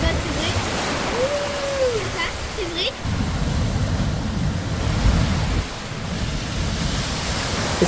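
Powerful sea waves crash on a rough, reef-less coast in southern Mauritius, a loud continuous roar of surf with wind buffeting the microphone and surging low rumbles, and faint bird-like calls above.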